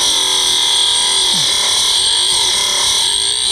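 A Scheppach DBS800 drill bit sharpener runs with a steady, high-pitched whine while a drill bit is ground in it, a continuous close buzzing tone with slight scraping variations.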